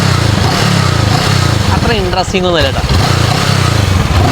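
A Honda NX 500 twin-cylinder adventure motorcycle idles steadily just after a cold start, a smooth, low, even thrum that stays loud and close while someone talks over it.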